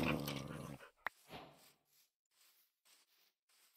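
A Minecraft wolf pack lets out one loud, close growl, then a scatter of soft whimpers and faint yips that trail off into near silence.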